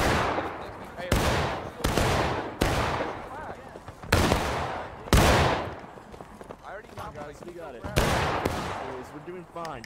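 Volleys of musket gunfire ring out in the American Civil War game War of Rights, sharp loud shots every second or so, layered with shouted voices calling out between the reports.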